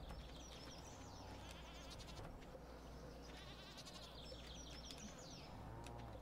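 Goats bleat in the farming video game Stardew Valley, several short, faint bleats scattered over a busy background of birdsong and constant low game ambience.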